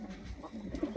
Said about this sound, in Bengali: তো দেখলেন আমার এইখানে বাচ্চাগুলো এবং কবুতরগুলো।